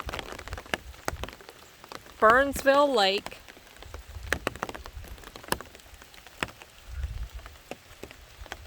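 Steady light rain pattering on surfaces at an RV campground near Burnsville Lake, with scattered drops and a brief burst of birdsong partway through, and a voice speaking over it.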